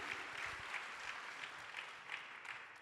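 An audience at a climate adaptation panel event claps steadily for a few seconds, even applause sounding fairly faint and distant.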